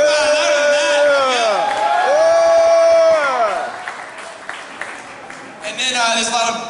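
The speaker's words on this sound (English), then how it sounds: "Give yourselves a round of applause first for coming and supporting Veteran Art." A crowd at Vetstock 2016, a veterans' art event, gives applause and cheers, the clapping and whoops running under a loud amplified voice and fading out near the end.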